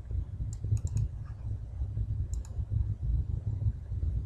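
Computer mouse clicks sound close and crisp, a quick double click followed by a few more single clicks and a later double click over a low room hum.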